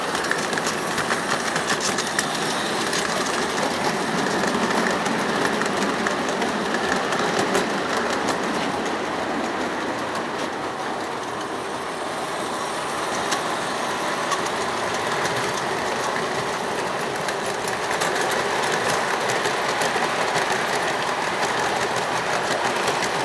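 An O gauge model train runs steadily along its track, a continuous mechanical whir and rattle with faint clicking, with no voices.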